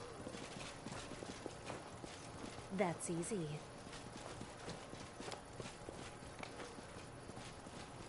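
Horse hooves clip-clopping in the fantasy role-playing game Pathfinder, a steady walking rhythm of soft thuds with a short whinny-like burst near the middle, heard under a voice speaking briefly.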